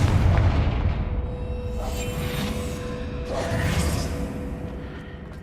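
Confringo fire spell blasting in Hogwarts Legacy, a booming explosive burst with a whooshing tail that swells twice over a steady low rumble, fairly close and without speech.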